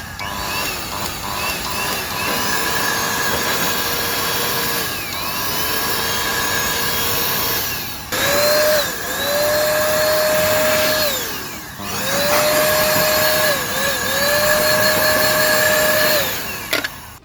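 An electric dust-cleaning air blower runs loudly and continuously, a high whining motor with rushing air that rises and falls in pitch as it speeds up and slows, with two brief cutoffs, no talking.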